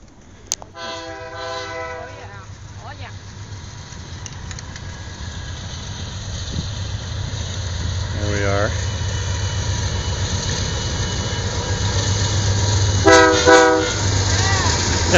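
A passing train near a golf course blows its horn in several separate blasts over a constant low rumble of engine and rolling cars that builds louder toward the end, with people talking nearby.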